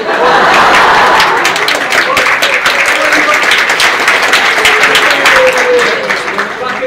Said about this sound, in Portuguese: Pra quem não entendeu a letra, pode bater palmas